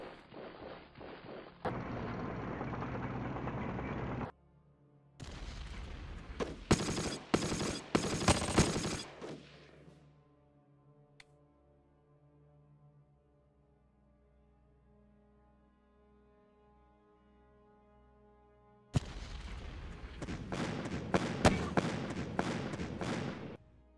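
Intercept fire in the Decisive Campaigns Ardennes Offensive wargame plays as bursts of rapid gunfire, a short volley followed by a longer loud barrage, then a quiet humming stretch before another burst of crackling shots.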